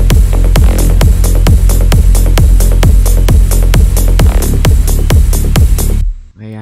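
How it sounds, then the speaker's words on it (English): Crisp closed hi-hats tick between steady four-on-the-floor kicks in a techno-style future rave track built in FL Studio, with bright stab chords over a loud, dense mix that cuts off abruptly near the end. "I also added some of the close hi-hats just to give a bit more of a techno feel"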